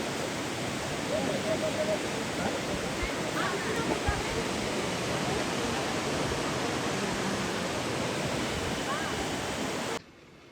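Loud, constant roar of rushing river water where two rivers meet at Karnaprayag, a broad steady wash of noise that cuts off abruptly near the end.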